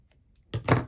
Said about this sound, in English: I'm going to snip my corners here.